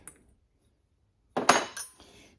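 The metal case of a Honda CT90 rear shock absorber is pulled off during disassembly, giving a short burst of metallic clinks and scrapes after near silence.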